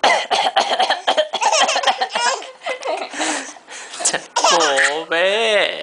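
A man coughs in close, loud bursts while a baby laughs and giggles in between, the coughing and laughter overlapping for several seconds.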